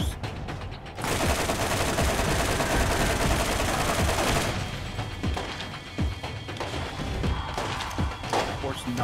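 Gunfire and rocket launchers in the video game Borderlands erupt in dense, loud bursts of rapid shots and crashing blasts that keep going, then thin out into scattered booms and impacts toward the end.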